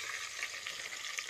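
Vegetables such as carrot, tomato, beans and green chillies sizzle and fry in hot spices in a pan for vegetable biryani, a steady dense crackle with faint stirring throughout.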